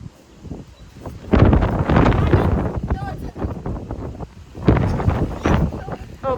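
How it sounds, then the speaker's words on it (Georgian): Strong wind buffets the microphone in loud, roaring gusts that rise and fall, while people talk beneath the rushing noise outdoors. "ქარია ძლიერი."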